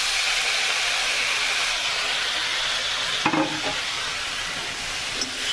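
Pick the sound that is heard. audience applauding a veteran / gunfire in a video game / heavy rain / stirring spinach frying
stirring spinach frying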